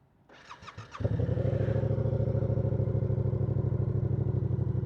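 A Yamaha R7 sport motorcycle starts with a brief cranking clatter, then settles into a loud, steady throbbing idle from the exhaust, close by.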